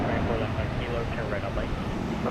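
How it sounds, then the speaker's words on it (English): An ITA airliner taking off at Boston Logan Airport, a broad continuous jet engine roar with steady loudness from a distance. "And that's ITA taking off. I'm like, what's that loud engine sound I hear?"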